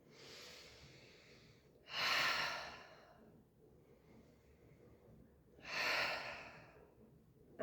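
Slow breathing during a Pilates exercise: a long soft inhale followed by two loud, forceful exhales spaced about four seconds apart, close to the microphone in a quiet room.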